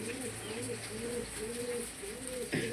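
Heavy booted pigeons coo in a close, repeated rhythm, a soft low burbling call rising and falling several times in a row, with a brief louder rustle or flap at the end.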